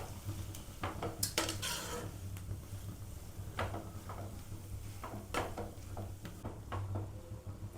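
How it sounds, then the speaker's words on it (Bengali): Metal ladle scrapes and clinks against a pot while mixing spiced potato filling for aloo paratha, irregular close taps and scrapes with quiet gaps between. "একটু হাতা দিয়ে আমি এটা ভালো করে মিক্স করে নেব একদম।"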